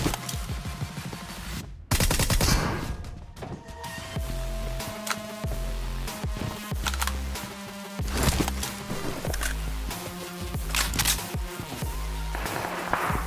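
Continuous gunfire in a BGMI battle royale match on mobile, with rapid overlapping bursts and single shots, some loud and near and others more distant, running through the whole stretch with no talk.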